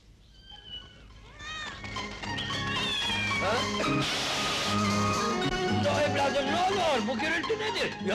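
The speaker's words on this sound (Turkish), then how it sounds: "Yine Mahmur ablaya sataştı Deli Mürvet'in kedisi!" A cat in an old Turkish film meows and yowls repeatedly, loud and near, its drawn-out cries layered over music and voices.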